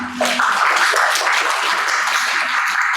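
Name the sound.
class applauding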